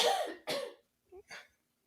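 A person coughs three or four times in quick succession, close and fairly loud, then falls silent.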